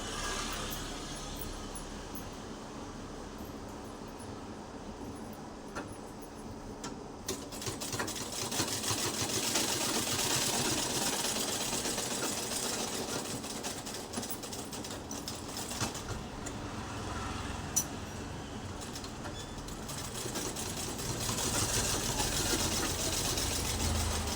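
A sewing machine runs steadily as it stitches a folded fabric hem, a continuous close mechanical whirr with no talk that swells slightly midway and carries on to the end.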